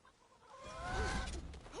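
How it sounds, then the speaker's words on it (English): Chickens clucking in the video game Immortals Fenyx Rising, a short burst of agitated clucks and squawks rising over soft ambient game sound, moderately close. "Still got the crazy chickens."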